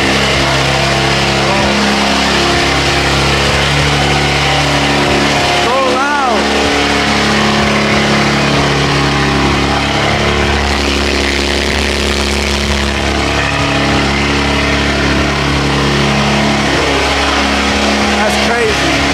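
Sports car engine, apparently a BMW M3 in a driveway, rumbling loudly and continuously with deep low harmonics, a quick rising rev flare near the middle, then settling back to a steady idle with no voices.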